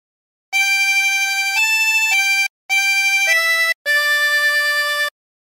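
A chromatic harmonica plays a short melody from the hymn Nearer My God to Thee, sustained clear notes in three phrases separated by brief pauses, close and alone.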